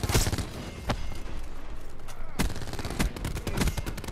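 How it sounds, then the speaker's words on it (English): Gunfire from a strike team in an online shooter game crackles through the clip as a few sharp, distant-sounding shots and short bursts over a busy game background. "Strike team shooting his body."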